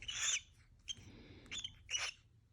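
A pet bird gives a few short, harsh squawks, about four sharp bursts spaced apart, close but fairly quiet, with no voices.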